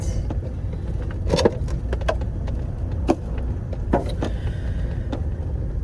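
A truck fitted out as a small house is driven along with a constant low road rumble, while loose items inside rattle and knock in irregular clatters and sharp clicks.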